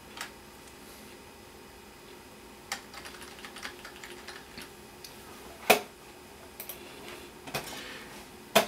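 Computer keyboard typing while entering a website address during a Dell computer reload, with a few sparse, faint keystrokes and clicks scattered across a quiet background, one sharper tap standing out near the middle.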